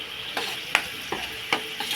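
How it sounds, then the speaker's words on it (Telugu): Country chicken pieces coated in ginger garlic paste are stirred in a hot pan, with four or five sharp scraping strokes over a constant sizzle, close and clear. "పచ్చి వాసన పోయేంత వరకు కలుపుకోవాలి"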